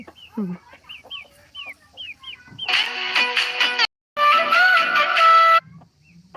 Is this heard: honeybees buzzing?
no